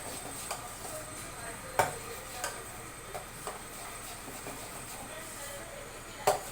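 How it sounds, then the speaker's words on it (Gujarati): A spoon stirs khaman dhokla batter with a couple of spoons of added water in a bowl, giving light intermittent taps and clinks against the bowl at an uneven pace, faint and close. "બે ચમચી જેટલું પાણી એડ કરવાનું છે અને સરસથી મિક્સ કરીશું"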